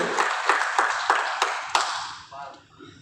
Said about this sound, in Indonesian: kita berikan tepuk tangan yang meriah, lebih dahsyat lagi